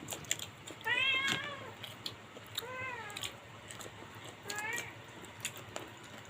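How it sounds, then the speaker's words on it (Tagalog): Cat meowing to beg for food during a family dinner, three distinct plaintive meows spaced a couple of seconds apart, close by over quiet room background. "Pusa namin na nahingi na."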